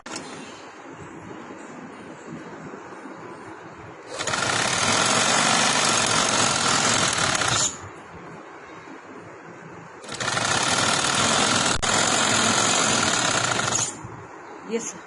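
Electric sewing machine stitching fabric for a baby frock, running in two loud steady whirring bursts of a few seconds each, separated by quieter pauses with background noise.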